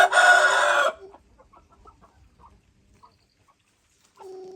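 Loud, close crowing from a rooster opens, followed by soft scattered clucks and peeps from a hen with a brood of chicks in a farmyard, ending with another short, nearer call.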